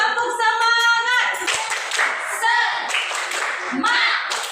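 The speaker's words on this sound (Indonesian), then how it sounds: "Ayo tepuk semangat." Children in a classroom perform the rhythmic 'tepuk semangat' clapping chant together, quick patterned claps mixed with loud chanting voices, close and lively throughout.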